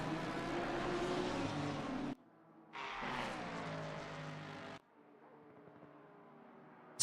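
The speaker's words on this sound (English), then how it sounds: "Up the inside then goes the Lamborghini." A Lamborghini race car drives at Spa, its engine note sounding in two bursts separated by short gaps, then dropping to a lower, quieter hum near the end.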